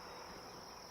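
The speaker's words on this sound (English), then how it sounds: "A few bees kind of checking it out." A few bees buzz around a new hive frame, a faint, continuous high drone with no pauses.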